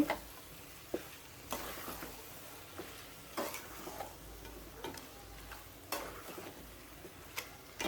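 Dal and beef are stirred in a pan, a soft steady sizzle under faint, scattered scrapes and taps of a spoon, quiet and close.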